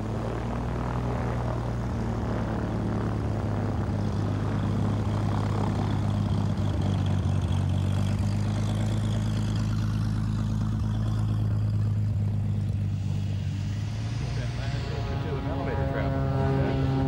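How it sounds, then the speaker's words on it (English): Propeller airplanes at the Oshkosh air show drone steadily with a loud, continuous engine hum and rumble, and the sound shifts slightly as aircraft pass by. A voice talks over the engine noise throughout. "Thousands of different planes here, like the Glass Airs, plastic aircraft of great speed and durability."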